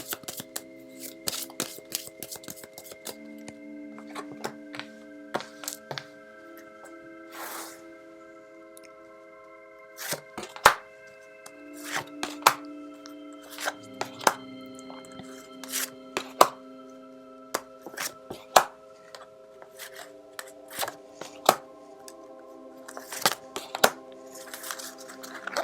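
Tarot cards are shuffled and drawn in a series of crisp, close riffles, slaps and clicks that come in bursts with short pauses over about half a minute. No one speaks.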